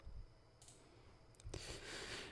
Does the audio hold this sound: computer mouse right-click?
yes